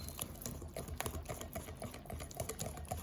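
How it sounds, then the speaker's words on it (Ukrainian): Egg being stirred into a pumpkin cheesecake batter in a bowl, a steady run of soft wet scraping and light clicks close by, no talk. "Тепер додаємо ще одне яйце і перемішуємо."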